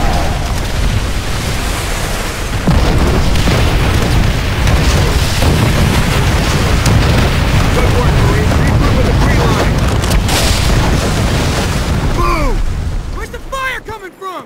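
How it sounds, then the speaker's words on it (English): Rocket strike explosions in the Call of Duty World at War war game, a loud continuous roar of blasts and rumbling debris with shouted voices over it, fading toward the end. "Call in rocket strikes on those positions, now!"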